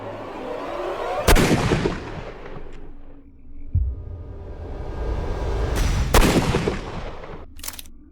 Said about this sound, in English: Good shot, Watson.